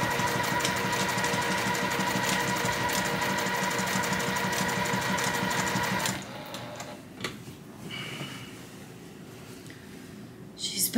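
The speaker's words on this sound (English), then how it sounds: "I'm gonna backstitch to overlap here because I definitely tore some stitches out." A sewing machine backstitches through a Hawaiian quilt, a steady close mechanical whir running for several seconds before stopping, followed by quieter handling noises.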